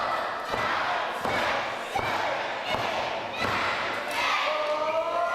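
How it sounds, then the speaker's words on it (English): A wrestler's head slammed repeatedly into the top ring turnbuckle at a wrestling show, a series of about five heavy thuds at roughly one-second intervals, each answered by crowd shouts and cheers. "As Divers getting his face battered off every top turnbuckle we have"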